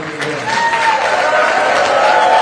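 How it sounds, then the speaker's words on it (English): A campaign rally crowd applauds a governor: steady, dense clapping with crowd noise and a voice over it, sustained throughout the short stretch. "if we give him a huge applause"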